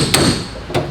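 Two sharp, loud metallic hammer strikes knocking out a pin while working on a canoe hot rod engine, spaced about half a second apart, close up over a low background hum.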